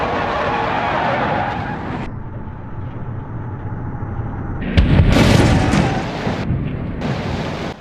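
A Chevrolet Corvette drives in a video game crash-test jump over a truck, its engine a steady loud rush broken by a cluster of heavy booming impacts midway before the engine noise carries on.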